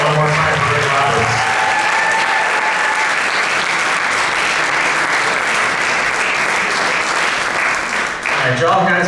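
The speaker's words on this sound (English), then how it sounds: "I'll keep the applause going one more time for Rik Roberts." An audience at a stand-up comedy show applauds for comedian Rik Roberts, sustained loud clapping and crowd noise filling the room, with a host talking over it near the end.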